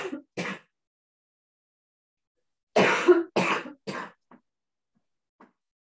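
Several harsh coughs come close to the mic in two short bursts, separated by a few seconds of silence, followed by faint throat sounds.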